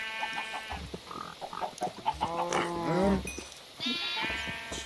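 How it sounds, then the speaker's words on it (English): Minecraft sheep bleat several times on a WyrdCraft farm, with short nasal bleats close by and a few chicken-like clucks between them, no talking. "Sheep."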